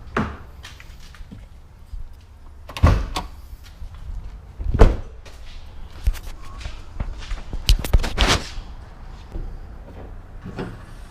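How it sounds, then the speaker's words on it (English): Someone opens the trunk of a 2015-or-later Subaru WRX STI during an oil change, giving several sharp latch clunks and thuds spaced apart, with footsteps and handling noises between them in a quiet garage. "Pop the trunk."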